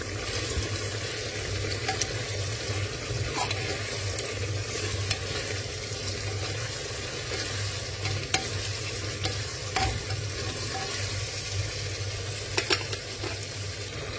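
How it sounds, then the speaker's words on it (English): Spiced Maharashtrian masale bhaat rice mixture with homemade garam masala being stirred in a pan, with a steady low sizzle and soft scraping strokes throughout and a few sharper clicks of the spoon. "Now I am going to mix it well again."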